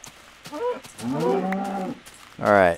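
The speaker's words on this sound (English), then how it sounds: "There's a lot of cows over here." Cows moo in the video game Minecraft, several low drawn-out moos in quick succession, close and fairly loud, the last one rising in pitch.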